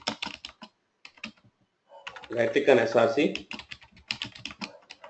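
Rapid clicks from a computer keyboard come in bursts, near and fairly clear, interleaved with someone talking.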